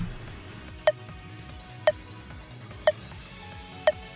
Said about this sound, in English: but the beep that you hear in the videos themselves sound like this